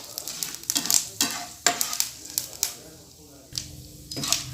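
A tempering of curry leaves in oil for a mint chutney keeps crackling and sizzling in a pan. Irregular clinks and scrapes of a spoon stirring are heard close up, and a voice speaks briefly over the sizzle.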